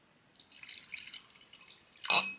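Stormtrooper whiskey pours from a bottle, starting with faint trickling and light dripping before a brief, louder splashing gush near the end, close and alone.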